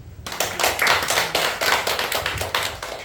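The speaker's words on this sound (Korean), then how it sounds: "우리 주님께 박수." A church congregation at a Sunday service claps in a rhythmic, fairly close beat, with sharp regular slaps repeating through the few seconds after a short silent start.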